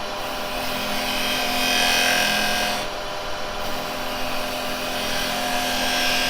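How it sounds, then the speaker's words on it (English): A carbide chisel cuts a tenon into wood spinning on a lathe, giving a continuous close whirring scrape that swells and dips slightly, with no pauses. "Now I'm going to make my tenon, and again I'm just going to cut in like so."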